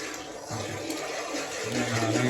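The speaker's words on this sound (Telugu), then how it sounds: "ఒక ప్లేట్లో నీళ్లు పోసి" Water pours and splashes into a plate for a couple of seconds, close and fairly quiet.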